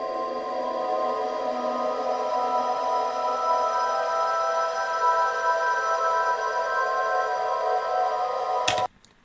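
Vocal sample smeared by a blur effect in FL Studio into a sustained, shimmering wash of layered tones that holds steadily for several seconds, then stops abruptly with a short click.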